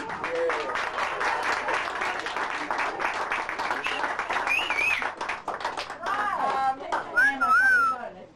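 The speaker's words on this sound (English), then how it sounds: "And now, a big round of applause for Mommy Dearest." A crowd at a birthday party bursts into sustained clapping that lasts several seconds, with whistles and cheering rising toward the end. Voices can be heard mixed in with the applause.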